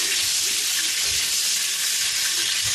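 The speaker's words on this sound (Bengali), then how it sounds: "এই মাছ ভাজার তেলের মধ্যে আমি ফুলকপিগুলো ভেজে নেব লবণ দিয়ে।" Cauliflower pieces sizzle and hiss steadily in hot oil that was used for frying fish, with salt added. The frying is loud and continuous throughout.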